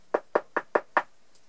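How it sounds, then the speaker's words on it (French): Five sharp, evenly spaced knocks on a castle door ring out loud and close in a steady rhythm, followed by silence. "Elle a toqué à la porte."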